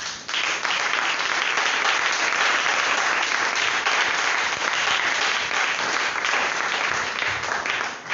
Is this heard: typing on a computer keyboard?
no